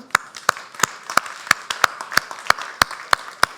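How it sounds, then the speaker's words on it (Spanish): A church congregation at a discipleship class on Revelation gives the Lord a round of applause: a dozen or so sharp, evenly spaced claps, fairly sparse and close, like a small group clapping in rhythm. "Den un aplauso al Señor."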